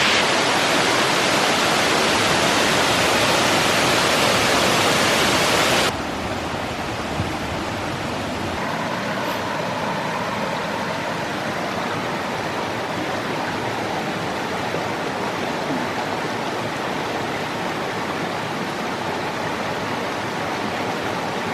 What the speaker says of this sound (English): Hareshaw Waterfall.